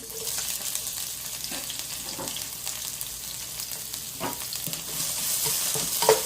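Garlic and jalapeno frying in oil in a pan for a potato stir-fry, a steady soft sizzle with occasional clicks and stirring scrapes, no talking.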